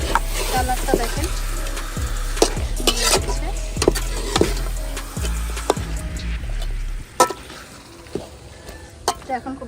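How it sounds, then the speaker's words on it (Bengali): Chicken meat being stirred in a pot for a village picnic, a utensil knocking and scraping the pot in a quick rhythmic run over a soft sizzle, then a few scattered clinks. "এখন এটা একটু নাড়া দিয়ে দিব যেন নিচে না লেগে যায়।"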